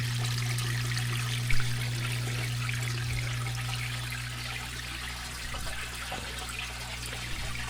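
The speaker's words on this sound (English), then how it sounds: "those are still overflowing just fine" Water overflows and trickles continuously in a basement, a steady close wash of running liquid over a constant low mechanical hum, with no voices.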